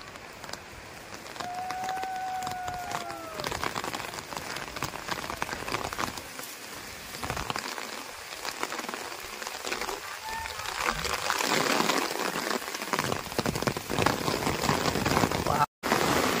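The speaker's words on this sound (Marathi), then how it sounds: "खूप जोरात पाऊस आलेला आहे" Heavy rain pours steadily outdoors during a wet-weather outing near a waterfall pool, a dense, continuous wash of noise that holds throughout, with people talking over it and a brief tonal sound early on.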